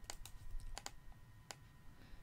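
Computer keyboard shortcut keys are pressed while working in PowerPoint, giving a few crisp, close clicks in short separate bursts over a quiet background.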